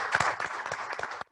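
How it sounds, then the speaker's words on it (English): An audience claps for colleagues at a climate innovation centre dialogue in Ghana, a short moderate burst of applause that cuts off abruptly after about a second. "please help me give them a round of applause"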